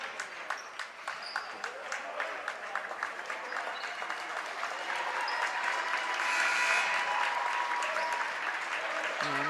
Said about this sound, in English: And these seniors getting a nice round of applause.